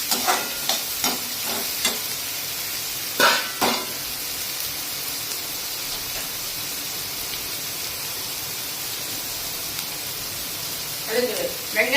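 Onions sautéing with salt and turmeric in a pan for an eggplant, drumstick and capsicum sabzi, giving a steady soft sizzle with scattered scraping stirs and a few louder clatters near the start and end.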